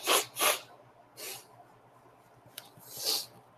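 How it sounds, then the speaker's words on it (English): A person sneezes or snorts several times in short bursts, close and fairly loud, with quiet pauses between, while feeling an urge to sneeze; breathy and nasal. "I feel like I'm gonna sneeze"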